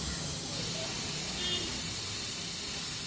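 Steam hisses continuously from a pressure cooker whistle while chicken egg sambar cooks, a steady, fairly loud broadband rush that holds evenly for the whole stretch without a break.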